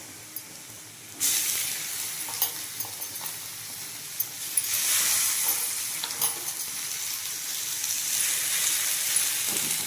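Tomatoes added to frying onions in a pan for a tamarind-free sundakkai kuzhambu; a sudden loud hiss erupts, then a steady sizzle continues with a few stirring clicks, close up.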